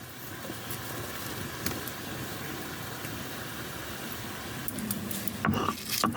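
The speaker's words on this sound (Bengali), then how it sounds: "শিলনোড়াতে আদা, জিরে ও কয়েকটা কাঁচা লঙ্কা বেটে নেব" Ginger, cumin and green chillies ground by hand on a flat grinding stone, a steady close rasping scrape that runs unbroken with a few louder knocks near the end and no talking.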